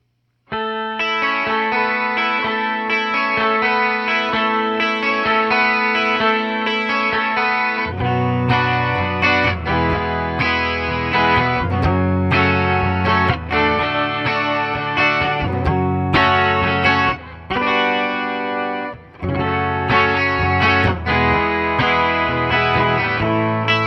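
Electric guitar played through Digitech Mosaic and tone press pedals, shimmering chorused chords with a long sustained opening then a busier rhythmic strummed passage, loud and continuous with brief dips, no talking.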